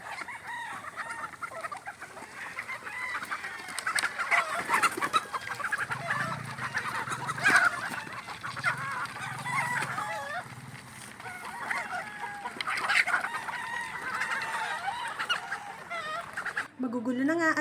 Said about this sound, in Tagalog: Magugulo na nga at makukulit na ang mga manok sa range area